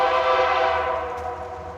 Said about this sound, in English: Let's wait for the train to stop.